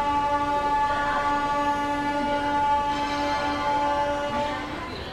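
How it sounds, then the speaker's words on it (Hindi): A train horn sounds long and steady at Kanpur Central railway station at night, carrying as a loud continuous tone with a faint rumble of rail cars beneath it, then fading slightly at the end. "इस वक्त हम आ चुके हैं उत्तर प्रदेश के फाइनेंशियल कैपिटल कानपुर के कानपुर सेंट्रल रेलवे स्टेशन में"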